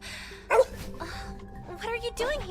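A dog in the video game The Hundred Line gives a short, soft half-bark, a brief muffled yip near the middle, with voices talking around it.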